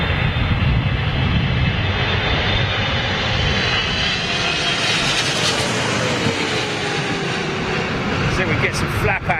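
An American Airlines Boeing 777 arriving to land roars overhead, its engine drone loud and continuous, swelling and shifting in pitch as the jet passes close.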